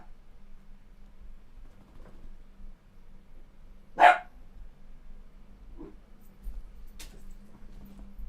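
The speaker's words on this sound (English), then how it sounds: "Hey, no barking." A single dog bark, short and fairly loud against a quiet background hum, followed by a couple of faint clicks.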